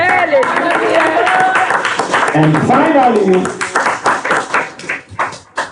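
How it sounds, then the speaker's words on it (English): Someone speaks while a church congregation's applause swells, then tapers off in uneven bursts of clapping. "Give Jesus a round of applause."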